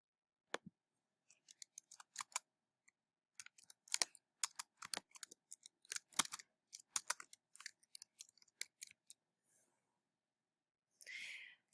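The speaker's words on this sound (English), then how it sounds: "So let's practice by typing in a title of a book" Quiet, irregular clicking of computer keyboard keys being tapped in short runs and bursts while typing a book title, with pauses between, ending in a brief rustle.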